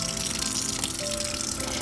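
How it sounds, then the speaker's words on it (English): Tap water runs steadily into a plastic denture cup as it is rinsed and filled at moderate temperature, a continuous close gush and splash with no talking. "I'm going to rinse my denture cup front and back and fill it up with moderate temperature water."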